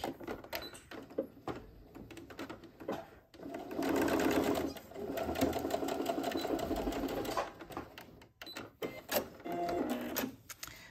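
A sewing machine stitches a seam on a sports bag in bursts of rapid mechanical whirring. The runs stop and start, with short pauses and small clicks and handling noises between them, all close by.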